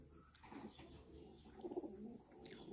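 A banded racing pigeon with a yellow ring resting outdoors, giving soft, low cooing calls, faint and fairly close, a brief burst of throaty coos in the middle.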